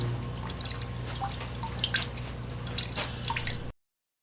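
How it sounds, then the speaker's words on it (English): Water drips steadily from a drained plumbing line during a bathroom remodel, scattered near drops plinking over a constant low hum, with no voices. "Got to make sure I got all the water dripped out of it."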